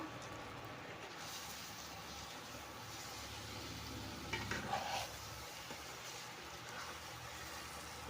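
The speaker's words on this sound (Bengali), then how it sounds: "গ্যাস তো শেষ হয়ে গেছে, তাই জন্য এখন ইন্ডাকশানে রান্না করছি" Egg curry stirred in a pan on an induction cooker, a steady soft sizzle running throughout with a brief scraping stir midway, faint and close.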